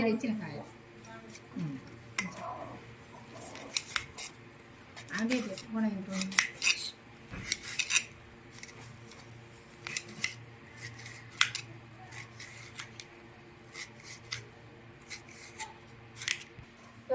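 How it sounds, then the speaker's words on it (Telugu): A knife cutting a small raw mango for Ugadi pachadi, sharp close clicks and scrapes of the blade against the fruit and a plate in an irregular series, with someone speaking at times. "ఉగాది పచ్చడి కోసం మామిడికాయ కోసుకుంటాను"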